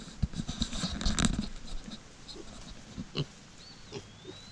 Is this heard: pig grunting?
yes